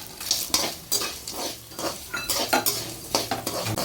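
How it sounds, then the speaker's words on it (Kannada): Cinnamon, cloves and cardamom dry-roasting with coriander seeds in a pan for Bisibele Bath powder: repeated close metal spatula scrapes and rattles against the pan over a light sizzle, with no voices. "ಚಕ್ಕೆ, ಲವಂಗ, ಏಲಕ್ಕಿ ಎಲ್ಲ ಸ್ಪೈಸಸ್ ಹಾಕ್ಕೊತಾ ಇದ್ದೀನಿ."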